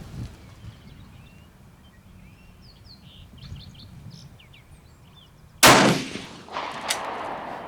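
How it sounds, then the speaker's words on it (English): A single sharp rifle shot from a Steyr rifle at an outdoor shooting range, cracking loudly and echoing briefly after a quiet stretch with faint birdsong in the background. "I think I'm going to shoot at the 2 red dots underneath the black shooting seat."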